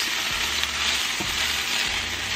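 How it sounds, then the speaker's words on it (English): Chili peppers, ginger and garlic sautéing in oil in a pan over medium heat for General Tso's, a loud continuous sizzle with a few low thumps of stirring throughout, close and alone. "And I am going to saute these for 1 minute."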